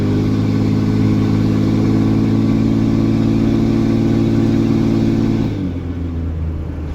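A Ram 2500 pickup engine towing a 7,500-pound trailer labors at a steady, loud rumbling drone under load, then shifts and eases off slightly near the end.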